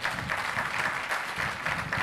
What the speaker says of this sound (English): Please give him a very loud hand clap.